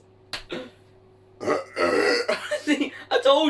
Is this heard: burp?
yes